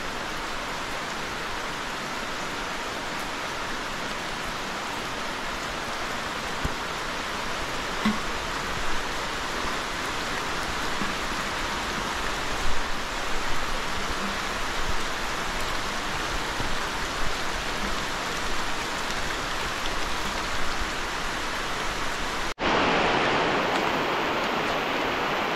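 Steady monsoon rain pours into a village well, a dense, even hiss of falling water that continues without a break and shifts abruptly in tone near the end.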